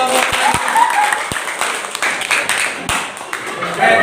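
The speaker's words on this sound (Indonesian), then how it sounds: "tepuk tangan untuk kelompok" Classroom applause from students clapping for a group during a civics lesson, a brisk patter of many hands with a few sharper individual claps and some voices mixed in.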